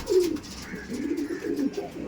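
Pigeons coo in a loft of Kaldom and Laldom breeds, with low throaty rolling calls repeating close by in a steady rhythm.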